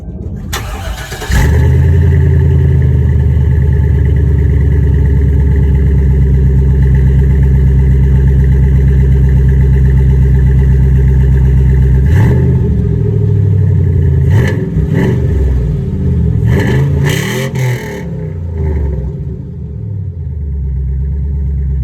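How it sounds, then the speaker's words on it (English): Chevrolet Silverado truck engine starts close by and idles with a deep, steady exhaust rumble, then several sharp revs rise and fall near the end. "so here's the exhaust now"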